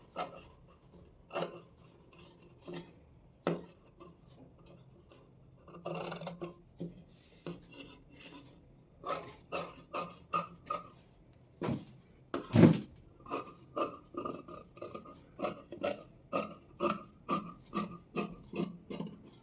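Scissors cutting the front piece of a large-size blouse from fabric, a series of crisp rasping snips that are sparse at first and then quicken into a steady rhythm, close and fairly quiet, with no talking.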